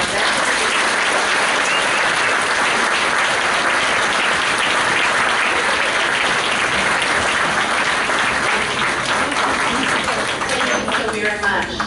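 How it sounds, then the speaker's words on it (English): Audience at a Veterans Day school event gives sustained, loud applause for veterans, a thick, even roar of many hands clapping without pause for the full length. "Let me give one big round of applause for all of our veterans."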